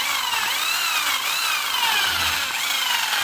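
A power drill drives black screws while fitting fluted sheeting, giving a close, continuous high whine with rising and falling pitch sweeps as the motor loads and spins.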